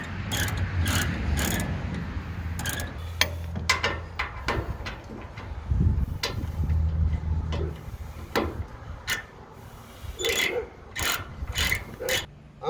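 A hand ratchet snugs self-locking nuts on a car hauler axle, giving a series of sharp, irregular clicks at close range over a low background hum.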